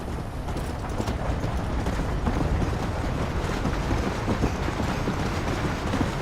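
A steam train rolls along in the Red Dead Redemption video game, a steady, dense rumble of wheels and rail clatter with a faint rhythmic clip-clop mixed in, loud and continuous throughout.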